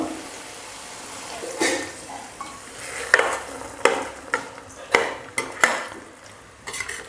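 A spoon scrapes and taps against a pan in a series of sharp stirring strokes through curry over a faint sizzle, no voices.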